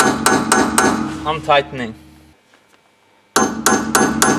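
Sharp metallic hammer strikes ring out in a quick series while a nut is bent back during Peugeot 307 ABS sensor work, then a short spoken phrase and a quiet pause before another burst of taps.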